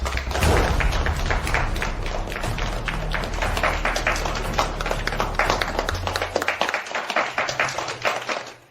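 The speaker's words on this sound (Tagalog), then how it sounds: "Ngayon, halina't bigyan natin ng pinakamalakas na palakpak." Loud audience applause greets a company chairman being welcomed on stage, with dense clapping and thuds filling the whole stretch before tapering off toward the end.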